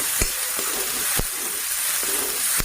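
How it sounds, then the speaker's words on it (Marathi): Ground green chili, coriander, ginger and garlic masala paste sautéing in hot oil for a potato curry, giving a steady close sizzle and hiss with a few sharp stirring scrapes, no voices. "आता हे वाटलेलं वाटण टाकून घेऊ"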